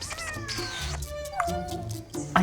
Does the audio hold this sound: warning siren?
no